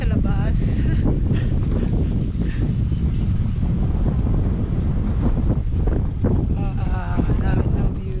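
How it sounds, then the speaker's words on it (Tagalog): Steady, heavy wind buffeting the microphone outdoors at a tourist spot in Aningalan, Antique, throughout, a constant rumbling roar with faint voices underneath. "May hangin-hangin pa."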